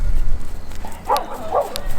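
A dog met at a roadside stop near the Mexican border gives a couple of short, mid-pitched barks and yips close by, following a brief low rumble of background noise.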